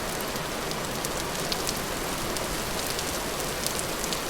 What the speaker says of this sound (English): I don't like that it's raining.